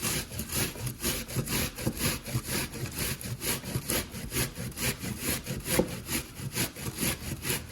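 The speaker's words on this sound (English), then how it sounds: "So I'm just going to keep grating until it's all grated." Rapid, steady back-and-forth rasping of food being grated by hand on a grater, close and continuous, with a quick rhythmic scraping throughout.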